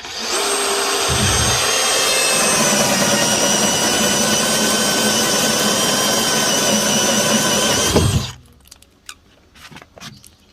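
A heavy 5.5 kg DeWalt DCD460 drill bores into wood, spinning up to a loud, steady high-pitched whine for about eight seconds before stopping abruptly, followed by a few faint clatters.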